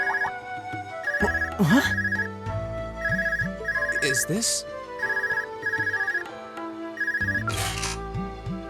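An Orbital cell phone rings in the Trails of Cold Steel video game, loud repeated electronic tone bursts in a regular pattern over game music, with short spoken lines in between.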